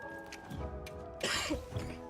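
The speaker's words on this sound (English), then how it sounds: "Sorry for the cough in chat." A brief, quiet throat-clearing cough from a streamer during a Monster Hunter Wilds session, over faint game sound.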